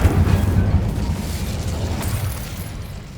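The Incendio fire spell cast in Hogwarts Legacy, a loud whooshing burst of flame at the start that rumbles and fades over a few seconds.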